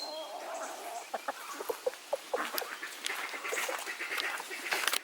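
Hens eating scraps, with irregular pecking taps and soft clucks and squawks close by over a low steady background, no speech.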